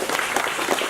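A crowd at a welcome-home event for Vietnam veterans in Barnegat, New Jersey applauds the veterans' commanders, dense clapping heard briefly and steadily throughout.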